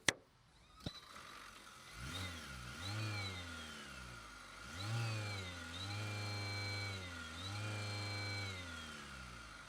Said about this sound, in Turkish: Bir miktar motor sesi var